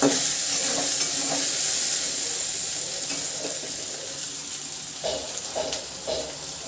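Kochur loti, taro stolons, frying in oil over a medium gas flame, giving a steady hiss of sizzling with soft stirring scrapes and a few clinks near the end.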